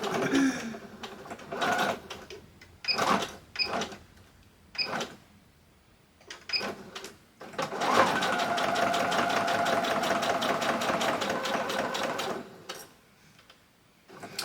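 A sewing machine stitches through a notepad in short bursts, then runs one long steady stretch, its rapid mechanical clatter close and clear between pauses.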